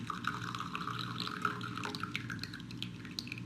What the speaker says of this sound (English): Take your hot water, pour a little bit on top, and then basically rinsing the tea.